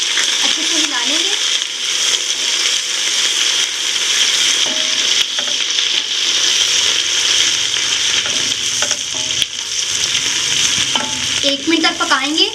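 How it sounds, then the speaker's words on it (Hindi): Garlic ginger paste sizzling and frying in hot oil with browned onions, stirred steadily with a spoon against the pan; a loud, continuous close sizzle with scraping strokes throughout. "अब मैं इसमें लहसुन अदरक का पेस्ट डालूंगी। अच्छे से हिला लेंगे।"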